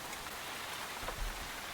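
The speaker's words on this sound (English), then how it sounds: "I hastened my pace, dashing through the rain" Steady rain falls in a continuous broadband hiss with a soft low rumble swelling near the end, moderately quiet and without voices.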